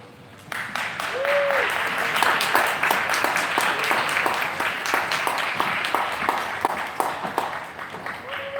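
A crowd applauds steadily for several seconds to welcome an evening panel's facilitator, with dense, sustained clapping and a faint voice or tone briefly above it.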